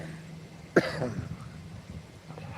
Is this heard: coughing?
yes